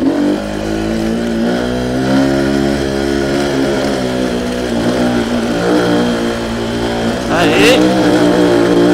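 A Beta RR LC enduro motorcycle engine revs steadily in second gear, a continuous buzzy drone with rising and falling pitch sweeps, and a sharper surge near the end.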